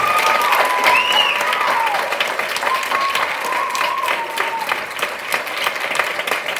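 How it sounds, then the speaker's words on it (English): Sustained applause from an audience at a spring school choir and band concert, steady dense clapping throughout with a few faint tonal whistles or cheers rising above it. "If we give them a round of applause,"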